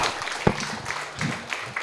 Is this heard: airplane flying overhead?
no